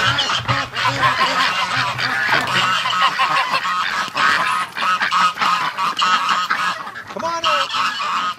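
Muscovy ducks and geese at a nesting shed on a hot day give loud, overlapping honks and calls that run throughout, with a person calling out briefly over the birds.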